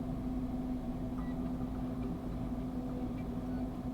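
A vehicle engine in a mobile first-person shooter game, played on a Nothing Phone 3a Lite, hums at a steady idle-like drone throughout, even and continuous with no speech over it.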